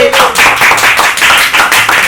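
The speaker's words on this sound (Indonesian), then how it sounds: "Tepuk tangan buat kalian semua sekali lagi." Studio audience applause at an Indonesian TV comedy show, a dense burst of close, loud clapping that carries on steadily for a couple of seconds.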